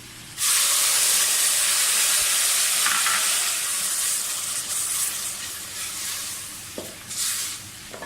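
Tomato puree frying in a pan of handi seekh kabab masala, being stirred: a loud sizzle and hiss bursts in and then holds steady, with scraping stirs and small clatters on top, and no talking.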